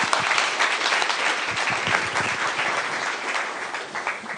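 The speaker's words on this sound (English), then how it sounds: "let's give a warm applause for the CEO of Orange Systems" Warm applause from a conference audience at a cybersecurity inspiration session, greeting the CEO of Orange Systems; dense, steady clapping fills the hall without pause, loud and close throughout.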